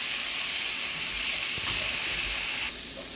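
Potatoes fry in a pan for an Afghani omelette with egg and tomatoes, a steady, close, loud sizzle and hiss. It quietens slightly near the end.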